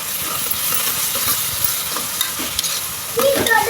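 Mint and coriander leaves frying in a pan for egg biryani, a dense close sizzle with steady stirring scrapes and a few clinks, louder toward the end.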